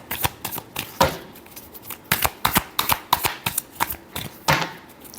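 Tarot cards being shuffled by hand up close, a quick run of crisp riffling and slapping bursts in an uneven rhythm, heard alone without talk.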